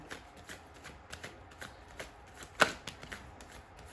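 Tarot cards being shuffled by hand, a quiet run of soft riffling flicks in a loose rhythm with one sharper snap of the deck near the end, close and with no talking.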